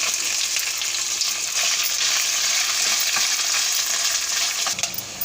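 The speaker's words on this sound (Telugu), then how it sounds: "ఇప్పుడు నెక్స్ట్ ఉల్లిపాయ పచ్చిమిరపకాయలు కూడా వేసేసి వేయించుకుందాం" Onions and green chillies frying in a pan with oil for a mushroom biryani, a steady close hiss and sizzle with occasional stirring scrapes throughout, no voices.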